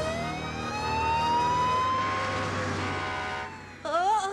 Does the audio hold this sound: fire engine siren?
yes